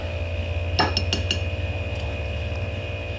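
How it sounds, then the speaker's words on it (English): A metal utensil clatters against a pan while flipping and stirring potatoes, four quick clinks close together over a steady low hum of kitchen background noise. "We're going to flip these potatoes up, and we're just stir them around a little bit."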